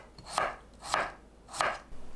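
Three evenly spaced knife chops of potatoes being cut into half-centimetre slices on a cutting board for Korean soybean paste stew, crisp and close with no talking.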